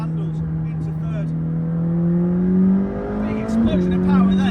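A McLaren 600LT sports car accelerates hard, its engine note climbing steadily through the revs before a brief dip at a gear change and a renewed rise, loud and close from inside the car.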